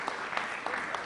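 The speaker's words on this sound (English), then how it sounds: "one more round of applause" Steady clapping from a sizeable keynote audience, dense and continuous with a few sharper bursts, filling the whole short stretch.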